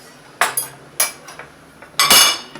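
Metal ladle and spoon clinking against a pan while spooning filling into fried eggplants for oven-baked karnıyarık, several sharp close knocks and scrapes in irregular rhythm, no talk.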